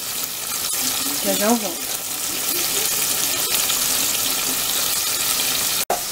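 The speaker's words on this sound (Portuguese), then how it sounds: "coloquei os bifes pra fritar" Breaded beef steaks frying in oil, a steady hissing sizzle running throughout, while someone speaks briefly near the start.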